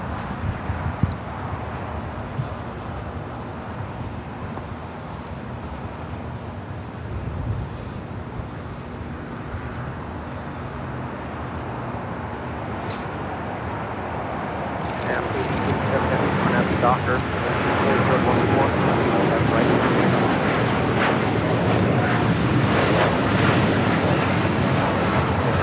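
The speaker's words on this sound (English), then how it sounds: "The 787-9 Dreamliner taking off to Tokyo, Haneda." A Japan Airlines Boeing 787-9 Dreamliner in oneworld livery takes off from LAX, a distant engine rumble rising into a louder roar partway through, with a voice talking over it.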